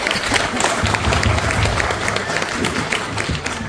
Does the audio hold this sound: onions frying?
no